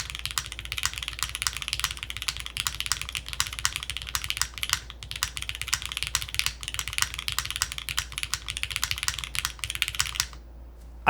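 Typing on a Neo65 Core Plus keyboard fitted with GMK keycaps and foam between PCB and plate, a steady stream of crisp, close keystrokes rattling along for about ten seconds before stopping abruptly.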